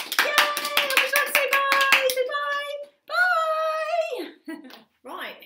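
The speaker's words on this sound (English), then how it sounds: "Yay, nice big clap." Several quick claps ring out at a children's singing session, a sharp rhythmic burst over a sung adult voice, followed by more lively singing and chatter.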